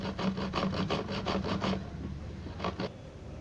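A knife saws and scrapes through a plastic bottle to cut out a section, giving a run of close, rhythmic rasping strokes for about two seconds, then two more brief scrapes after a pause.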